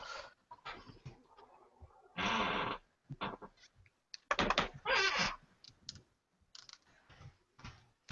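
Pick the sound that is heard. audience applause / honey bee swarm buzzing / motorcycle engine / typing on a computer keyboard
typing on a computer keyboard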